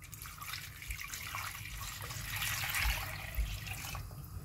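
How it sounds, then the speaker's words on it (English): Water is poured into a cooking pot holding sweet potato and yam, a soft steady splashing stream that swells briefly near the end. "So I'm going to put my water in the pot"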